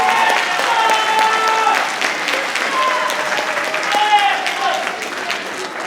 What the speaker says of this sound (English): Can we give a round of applause to the parents?